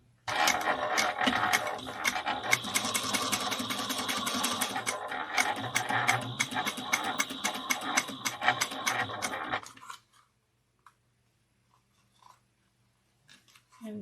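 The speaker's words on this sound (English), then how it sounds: "we're going to take this to the machine and do the same thing of stitching it in" Sewing machine stitching a leather espresso wallet: close, fast rattling needle strokes running steadily for about nine and a half seconds, then stopping abruptly, leaving near silence with a few faint clicks.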